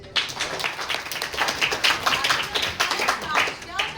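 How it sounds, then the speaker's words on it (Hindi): An audience claps in a science show auditorium, a dense run of hand claps at even strength lasting a few seconds, with voices under it. "हाँ, इनके लिए तालियां बजा दीजिए।"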